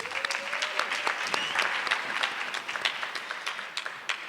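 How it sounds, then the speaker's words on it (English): An audience at a Lincoln University of Missouri talent and royalty draft event applauds, a dense steady wash of many hands clapping at middle distance for over four seconds, with faint crowd murmur beneath. "Let's please give another round of applause for Mr."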